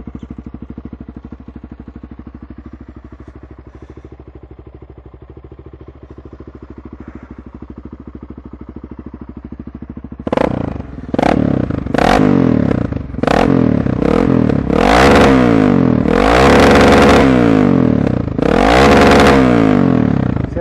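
A Honda CBR250R motorcycle engine idles with a low, even hum, then is revved in a series of sharp, loud bursts that rise and fall close by, ending in longer sustained revs.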